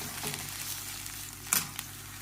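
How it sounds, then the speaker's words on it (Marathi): Finger millet soup with mixed vegetables boils in a pot, giving a faint, steady bubbling hiss broken by a couple of sharp pops or clicks. "आता चांगली खळखळून उकळून."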